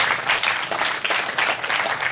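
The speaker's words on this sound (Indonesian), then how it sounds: "tepuk tangan yang ikhlas semuanya" An audience at a Kenduri Cinta gathering claps loudly and continuously, a dense, even burst of applause lasting a couple of seconds.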